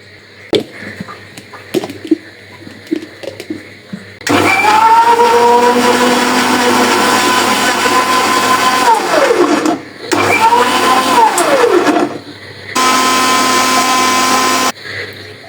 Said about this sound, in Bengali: এই যে আমার এটা ব্লেন্ড করা হয়ে গেছে